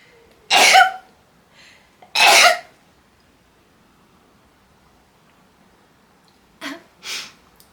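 Two sharp, explosive sneezes close to the mic, followed a few seconds later by a softer pair of bursts.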